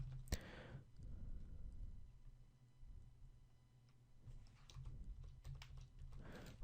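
Code being typed on a computer keyboard, a steady run of quiet key clicks and taps in bursts with short pauses, close and alone with no talk.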